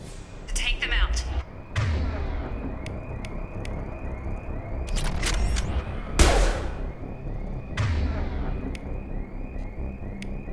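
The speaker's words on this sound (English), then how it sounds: "Here come the mechs. Use the grenade launcher to take them out." Grenade launcher blasts hit attacking mechs in Mass Effect 2, several loud booming bursts a second or two apart mixed with game effects and gunfire, a voice talking over parts of it.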